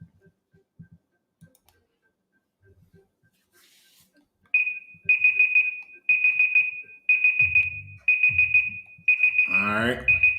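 A countdown timer for a classroom quiz question goes off with a loud, steady run of about six evenly spaced electronic beeps, with faint low knocks and murmurs underneath.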